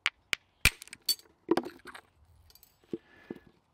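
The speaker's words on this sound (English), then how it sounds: "I have a hammer stone, so I'm going to knock off some crude blades" Flint knapping with a hammer stone striking stone to knock off crude blades: a handful of sharp, clicking cracks at irregular intervals, close and distinct, separated by brief quiet gaps.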